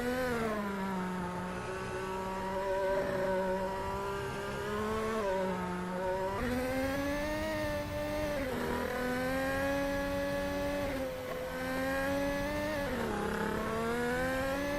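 F1 race car engines in a racing video game at the Australian GP, Albert Park, a loud high-pitched wail rising and falling with repeated upshifts and downshifts, sustained throughout.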